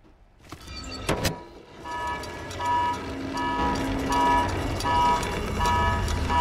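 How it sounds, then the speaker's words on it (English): A car alarm in the video game Stray, honking in a steady repeating pattern that continues loudly under background game sounds after a brief mechanical clunk. "I'm sure no one hears that alarm,"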